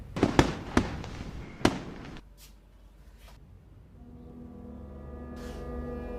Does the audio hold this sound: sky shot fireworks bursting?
yes